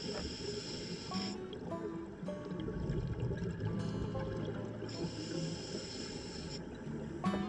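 Scuba diver's exhaust bubbles rise underwater on a Cayman Islands dive, a steady bubbling hiss and gurgle that surges in bursts with brief pauses, close and continuous.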